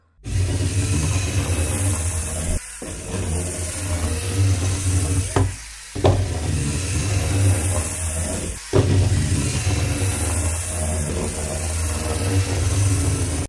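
Motors of a LEGO Spike Prime line-following robot run steadily with a whirring, buzzing hum that cuts out briefly a few times before resuming.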